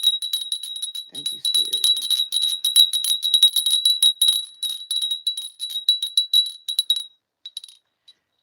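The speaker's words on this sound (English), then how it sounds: "I love that bell. I've had it for some time." A small hand bell rings continuously with rapid bright tinkling strikes for several seconds, then trails off into a few final isolated chimes; a voice speaks briefly near the start.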